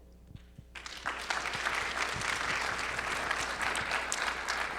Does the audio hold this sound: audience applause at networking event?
yes